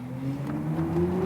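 A BMW iX xDrive50 electric SUV pulling away hard in agile mode, its motor whine climbing steadily in pitch over a low road rumble, heard from inside the cabin with no talk.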